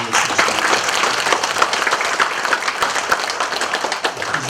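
An audience at an academic seminar on a Korean Empire militia commander gives the panel a dense, steady round of hand clapping that fills the room evenly throughout.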